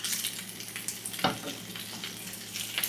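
Salmon cakes fry in butter in a pan with a steady, crackling sizzle, broken once by a soft knock as a chopstick flips a cake.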